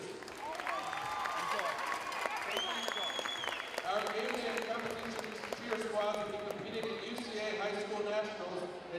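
Crowd applause for senior cheerleaders at a college game, continuous clapping mixed with gym noise and a voice talking over it, with bouncing thuds.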